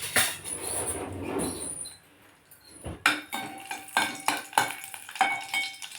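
Crushed garlic slices frying in a pan for a cabbage fry are stirred with a metal utensil, giving repeated close scraping and clinking strokes over a soft sizzle, with a brief quiet gap midway.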